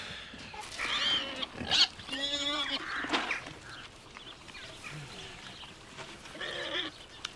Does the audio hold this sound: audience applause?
no